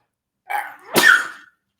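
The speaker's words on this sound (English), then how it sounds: "here it comes, it's going to sneeze" A single loud sneeze, a short sharp intake followed by an explosive burst, close up in silence.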